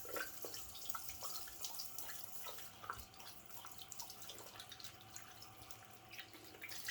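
Warm tap water runs to rinse after a shave, a faint trickle with scattered drips and splashes.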